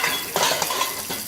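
Dishes, pots and metal vessels being washed at a sink, with scraping, clinking and knocking of metal against metal in short uneven bursts close by, and no talk.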